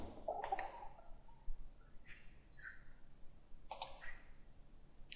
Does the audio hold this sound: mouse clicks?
yes